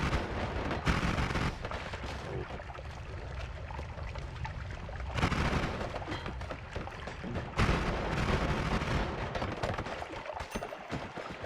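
A sniper enemy fires in the game Noita: a few loud, booming shots, about 2.5 seconds apart, each rising over a rumbling, crackling background with no voices.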